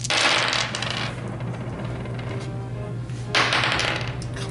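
Dice rattle across a table during a Horus Heresy 30k tabletop wargame battle, in two short clattering bursts, one at the start and one near the end, over a steady low hum in the room.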